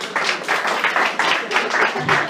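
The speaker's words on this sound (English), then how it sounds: "Let's give him a warm round of applause." Steady applause and cheering from a stand-up comedy audience at The Mint, a dense, continuous wash of clapping that swells in pulses and fills the room for a couple of seconds.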